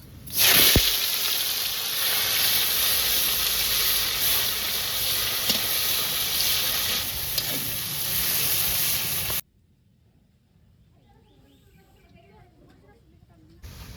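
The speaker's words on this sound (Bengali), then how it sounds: "পেঁয়াজ ভাজা হয়ে গেছে" Chopped onions frying in hot oil with cumin and bay leaf, a loud, dense, continuous sizzle that holds steady for about nine seconds before cutting abruptly to near quiet.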